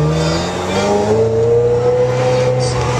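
A Ford car passing close by, its engine note climbing steadily and loud for about three seconds with no talk over it.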